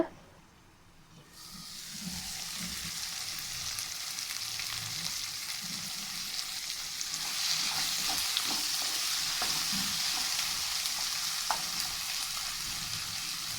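Tomato chutney simmers under a lid over a medium flame, a steady close sizzle and hiss that swells after a quiet start and holds evenly, with faint scrapes and bubbling beneath.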